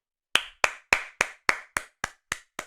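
A single person claps nine times in an even, moderately quick rhythm, each crisp slap close and clear against silence.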